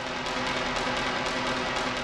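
Impact noise heard below an 8-inch concrete slab topped with 2 mm LVT flooring and no ceiling: a dense, steady broadband rumble with faint rhythmic tapping pulses, loud and continuous throughout.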